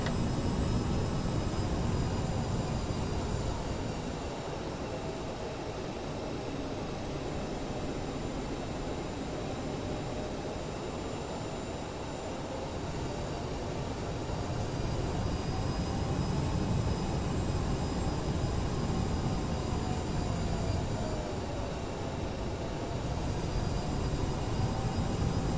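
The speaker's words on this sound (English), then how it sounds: "we're going to go ahead and taxi now to runway 11." A simulated Aerosoft CRJ regional jet taxiing in Microsoft Flight Simulator, a steady loud jet engine whine and broadband rumble that dips slightly midway and swells again, with no talk.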